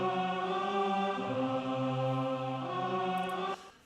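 A sustained, chorus-like vocal chord from the Deep preset of the Exhale vocal plugin rings steadily and loudly with rich layered harmonics, then cuts off abruptly just before the end.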